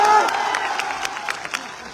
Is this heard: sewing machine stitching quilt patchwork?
no